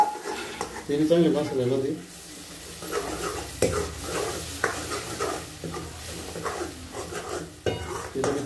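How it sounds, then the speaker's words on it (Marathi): Tomato gravy stirred into masala in a pan on a wood-fired chulha for shev bhaji, with sizzling and repeated spoon scrapes against the pan while someone talks over the start. "त्यामध्ये आता टमाट्याची ग्रेव्ही टाकून घेऊया"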